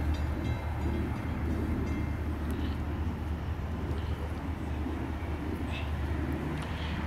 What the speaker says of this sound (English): He is approaching me now and he's 432 light engine move.